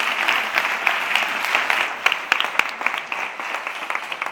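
Audience applause at a pediatric innovation event, a steady patter of many hands with a few sharper, louder claps standing out near the middle, fading slightly toward the end.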